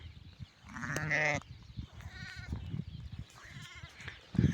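A newborn ram lamb bleats close by, one strong wavering cry followed by softer bleats, with light rustling around it.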